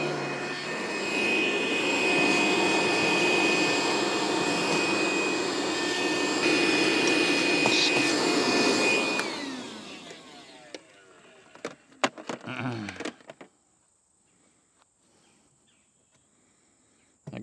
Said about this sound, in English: I'm going to go ahead and vacuum up a little bit.